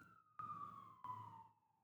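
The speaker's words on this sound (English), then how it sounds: "is this siren stuck in traffic directly outside my window?" An emergency vehicle siren wails in street traffic just outside a window, a single sustained tone slowly falling in pitch with two sharp bursts, fairly close and alone.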